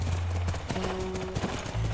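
Horse hooves clip-clop in the video game The Last of Us Remastered, a steady clattering trot close by with a faint tonal hum underneath.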